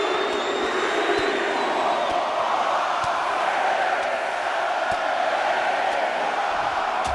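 A wrestling arena crowd at a WWE junior heavyweight championship match roars in a steady, dense wall of cheering, loud and continuous throughout with no clear breaks.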